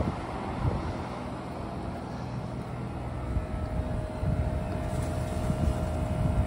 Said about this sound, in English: This is the sound of it running after about 20 minutes in near freezing temperatures.